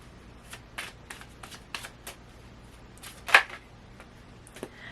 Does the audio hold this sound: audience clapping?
no